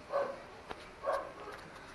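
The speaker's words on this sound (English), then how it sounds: "I really am upset about that little dog." A small dog at home gives two short yapping barks about a second apart, moderately near, against a quiet indoor background with no talk.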